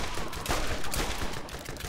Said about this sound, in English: I'm getting shot from every direction I can be